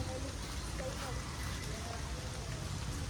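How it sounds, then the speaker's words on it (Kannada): Rain falls steadily outdoors, a dense, even patter of drops on surfaces that continues throughout, with a person talking over it. "ಈಚೆ ಎಷ್ಟು ಚೆನ್ನಾಗಿ ಮಳೆ ಬರ್ತಾ ಇದೆ."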